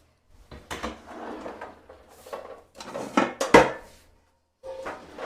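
A pot or pan being handled on the counter while preparing apple filling for a crumble cake, with bursts of clanking, knocking and sliding metal and wood, up close and loud, separated by short pauses.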